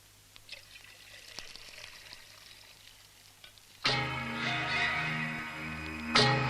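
Tea pours steadily into a cup for a couple of seconds after a quiet stretch, a close, bright trickling stream with no talking.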